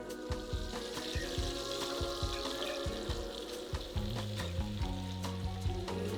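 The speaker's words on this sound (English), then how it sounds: "as soon as it sizzles, the onions go in." Steady sizzling and crackling of onions frying in butter and oil in a hot pan, with low thumping kitchen noises and a faint voice underneath.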